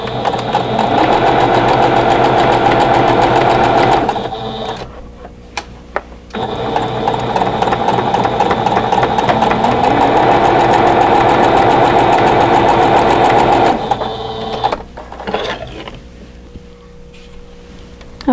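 A sewing machine stitches a ribbon quilt block in two long, loud, rapid runs broken by short pauses, close up and alone, then slows into a few uneven bursts before stopping.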